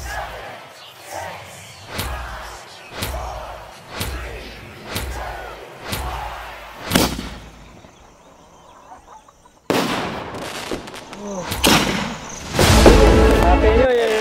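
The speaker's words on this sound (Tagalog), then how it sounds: "Ito yung sakalam na fireworks." A rapid series of New Year firework bangs, roughly one per second, followed by louder, closer explosions and crackling bursts.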